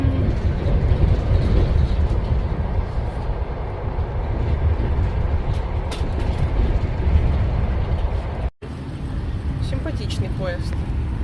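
A steady, loud rumble of an express train running along the tracks in Russia, continuous throughout with a brief dropout near the end.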